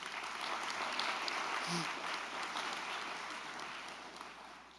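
Applause from the audience at a school board meeting, a faint, distant, even wash of clapping that fades slightly toward the end, with a brief voice partway through.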